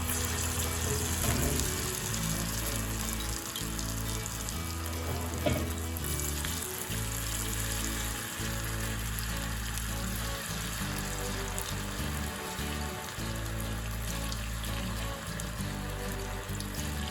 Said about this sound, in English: Now we fry the cauliflower pieces in medium heat oil for a few minutes.